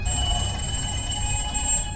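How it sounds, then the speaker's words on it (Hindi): An old telephone rings in the horror film The Black Phone, a bright sustained electronic bell tone held steadily and fairly loud throughout, with no voices over it. "तभी दोबारा फोन बजता है।"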